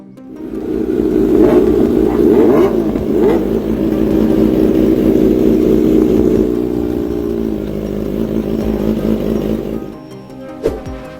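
Motorcycle engine revving loudly and close for several seconds, holding a steady strained roar with slight rises, then cutting off abruptly near the end.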